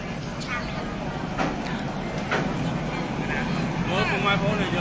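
A train crosses the railway bridge over the Sangkae river in Battambang, a steady low rumble and rolling clatter that builds slightly toward the end while someone speaks over it.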